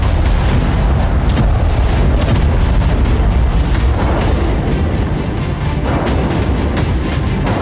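Explosions from a Ukrainian attack on Crimea roll on as loud, continuous booming and rumbling, with repeated sharp blasts throughout.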